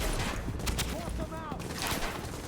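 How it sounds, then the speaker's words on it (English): Rapid SMG gunfire from a shooter game, The Division, crackling in dense bursts over a loud, busy mix of other combat noise, with voices in the background. "laying down some fire with my SMG"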